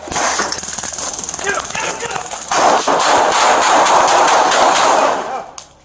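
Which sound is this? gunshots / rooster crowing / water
gunshots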